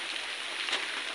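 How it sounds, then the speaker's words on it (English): Rain falling outside a house, a steady dense hiss of drops with no pauses over a short moment. "so it's raining outside actually."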